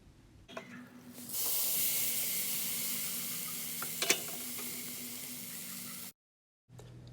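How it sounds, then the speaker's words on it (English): Flank steak sizzles loudly on a grill, a steady close hiss that swells in and holds for several seconds before cutting off abruptly. "Once ready, place your steak on the grill."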